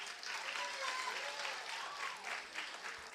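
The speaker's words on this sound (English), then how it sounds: "let's give another round of applause." Audience applause fills a track and field team awards ceremony, a steady wash of clapping lasting the whole stretch, fairly close and even, with faint voices mixed in.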